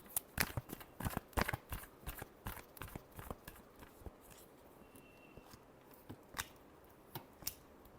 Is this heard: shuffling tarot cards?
yes